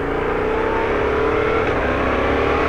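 A Yamaha MT-07 motorcycle engine pulls under acceleration on a wet road, a loud, continuous close drone with a rising tone and wind rush.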